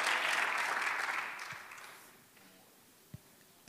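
Congregation applause at a church service rings out loud and dense, then fades away within about two seconds, leaving near silence with a couple of soft thumps.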